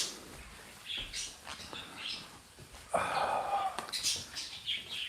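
Pet birds give scattered close chirps and tweets with a flutter of wings, the calls coming in short bursts over a quiet room.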